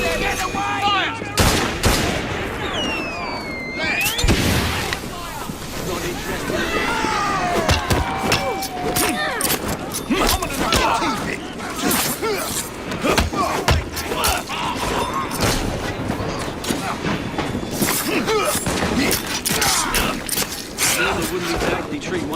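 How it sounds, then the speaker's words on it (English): A volley of pistol shots rings out in the Assassin's Creed Syndicate video game, sharp cracks firing in rapid, uneven bursts over clanking mechanisms and chatter, while voices speak loudly throughout. "Pistols at the ready! Fire!"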